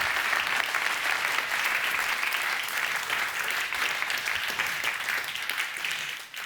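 An audience at a New York Times debate applauds a speaker, a dense, steady wash of clapping that holds throughout and tapers slightly at the end.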